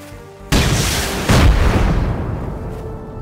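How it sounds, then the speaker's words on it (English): A rocket fired in the video game Rust, with a loud booming launch followed by a second heavy explosion and a rumbling, fading tail, with no voices. "Did you just shoot a rocket at him?"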